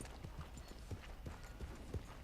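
Horse hooves in the video game Red Dead Redemption 2, a quiet, even clip-clop of repeated hoof strikes at a walking pace, heard alone.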